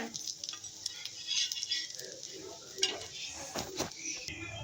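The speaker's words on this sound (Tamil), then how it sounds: "தோசை வெந்துச்சு அதுக்கு திருப்பி போடலாமா" A rice and urad dal dosa is flipped on a pan, with close metallic scraping and clattering of a spatula against the pan in irregular bursts over a faint background.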